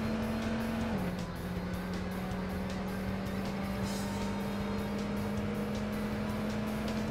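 An AC Cobra 427 in the racing game TORCS gives a steady, loud simulated engine drone at near-constant pitch. It dips slightly once early, then holds as the car drives on with faint tire noise.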